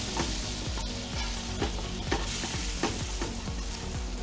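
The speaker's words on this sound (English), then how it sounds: "I have 3 eggs and some milk in a bowl that I'm going to be scrambling here pretty soon to add into this. Let's get this stirred up." Eggs and milk are whisked in a bowl with steady, rhythmic stirring strokes about twice a second over a constant hiss, near and fairly loud, with no talking.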